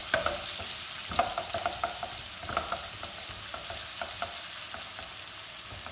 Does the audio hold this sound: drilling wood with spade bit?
no